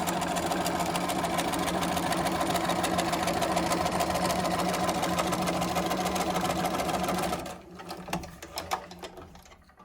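A sewing machine runs steadily, stitching a quarter-inch seam on a half rectangle triangle quilt block for about seven seconds, a loud continuous close whir, then stops, leaving faint handling noises.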